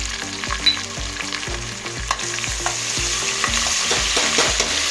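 Onion, garlic and curry leaves frying in a hot pan with a steady broadband sizzle, a regular low rhythmic tapping underneath, loud and close, with no voices.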